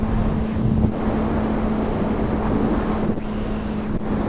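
Wind buffets the microphone of a rider on a 600cc motorcycle: a loud, steady broadband rush with a faint low hum running beneath it and no talking.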